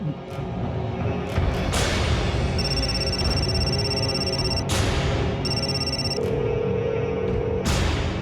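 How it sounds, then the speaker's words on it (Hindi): A telephone rings repeatedly in bursts over a dense musical background, the high ringing tone sounding several times with no answer. "फोन क्यों नहीं उठा रहे?"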